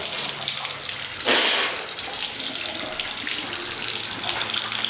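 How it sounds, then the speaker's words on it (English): Water rushes steadily through galvanized pipes into a water heater in a constant hiss, with a brief louder gush partway through. "you can hear that water coming into the water heater"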